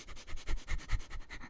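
A voice mimics a beagle sniffing, a quick rhythmic series of soft nasal sniffs, close and fairly quiet.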